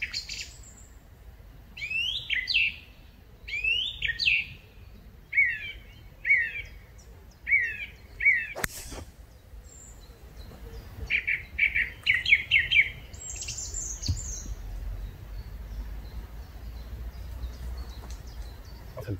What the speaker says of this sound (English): Fantastic song thrush